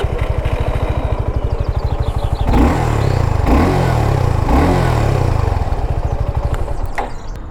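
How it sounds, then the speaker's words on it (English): A Suzuki Gixxer SF 250 motorcycle's exhaust thrums at idle, then revs up in three quick blips before settling back to a steady, close burble. "And the exhaust note is not that much catchy. It is almost similar to 150cc motorcycle."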